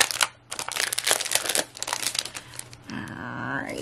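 A plastic packet of foiled heart-icon sticker sheets crinkles and rustles in hand, crisp close crackles in bursts, with a brief voice at the end.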